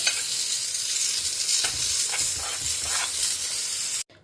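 Gravy with kasuri methi bubbling and sizzling steadily in a pan, a dense close hiss with soft popping, cut off abruptly at the end.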